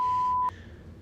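A single steady electronic censor beep, a pure tone lasting about half a second, then cuts off abruptly over speech.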